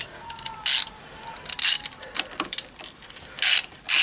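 Metallic clicks and short bursts ring out as the kickstart cover comes off a Triumph Bonneville T140 engine, a few separate clanks and scrapes close up with pauses between them.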